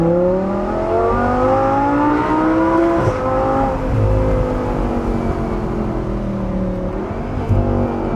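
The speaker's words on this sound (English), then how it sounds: "So let's hear the exhaust again" Audi R8 V10 Spyder with an IPE exhaust revving hard in open-top form, a loud sustained engine note climbing and falling in pitch through repeated revs with no talk.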